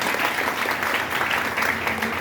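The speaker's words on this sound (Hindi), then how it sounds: "एक बार जोर सर के लिए जोरदार तालियां करेंगे" Audience applause at an RCM Business leadership event in India, a dense, steady clapping from a crowd that holds at full strength for about two seconds with no break.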